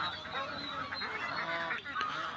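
Geese and ducks honk and quack together at a busy rural poultry market in Sirajganj, Bangladesh, a dense, continuous chorus of overlapping calls fairly close by.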